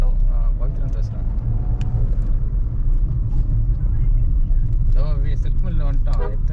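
A brand-new car is driven home from the interior, with a low, steady engine and road rumble throughout. People talk over it now and then.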